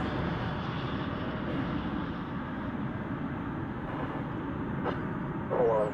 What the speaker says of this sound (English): Coming in from Baltimore Washington International Airport is this Spirit aircraft